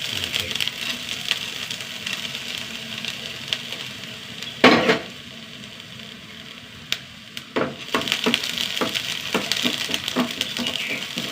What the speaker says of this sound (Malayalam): നന്നായി വറുത്തെടുക്കണം ഈ പരിപ്പ് നന്നായി വറുത്തെടുക്കണം